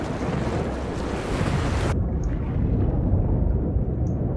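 Ocean waves in the video game The Last of Us Part 2 roll in as a steady loud wash of surf, briefly muffled partway through as if heard underwater, with no talk.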